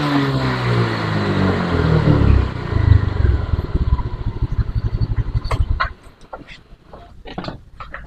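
A Honda Beat ECO scooter engine fires up and settles into a rough, pulsing idle nearby, the rhythmic putter lasting several seconds before dropping to a quieter, uneven chatter.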